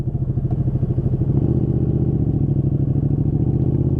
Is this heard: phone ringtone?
no